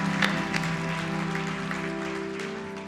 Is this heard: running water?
no